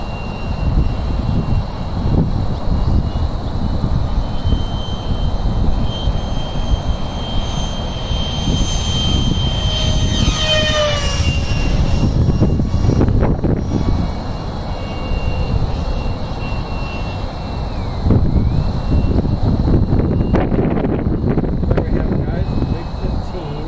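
An RC model MiG-15 jet with wheels flies in windy conditions, its engine whine rising and sweeping in pitch as it passes, under heavy wind buffeting and with people talking.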